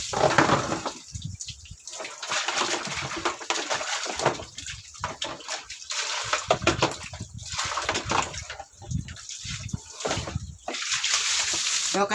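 Water splashes and pours in bursts during a cleanup, with sloshing and running flow close by and voices talking intermittently over it.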